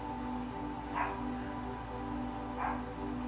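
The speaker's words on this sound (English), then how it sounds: "Yes, my dogs are very barky today as well." Dogs barking in the background of a quiet room, two faint, well-spaced barks over a low steady hum, with no talking.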